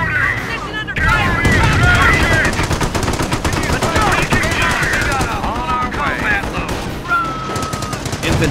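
Dense machine gun fire rattles continuously in a Company of Heroes World War II battle, mixed with other gunshots, booms and distant explosions, with unit voices calling out over the fighting.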